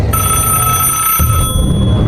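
A telephone rings with a loud, sustained electronic bell tone close by, cutting off partway and leaving a steady background hum.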